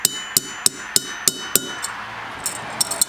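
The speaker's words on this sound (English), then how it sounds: "You're gonna take your ball peen hammer and you're gonna just start" A ball peen hammer strikes copper pipe on a piece of steel, shaping it into a fishing spoon: sharp, ringing metallic blows land at a steady pace, about nine in quick succession, close and distinct.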